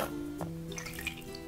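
Water dribbles and drips from a squeezed Bubble Guppies bath squirter toy, a few soft splashy drips over a faint steady hiss, close and quiet.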